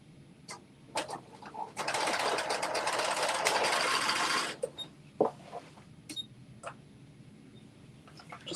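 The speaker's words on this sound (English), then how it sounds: "now last part is to just sew this 12-inch" A sewing machine stitches a 12-inch section of an off-the-shoulder top in one steady, close run of about three seconds, with soft handling clicks and taps before and after.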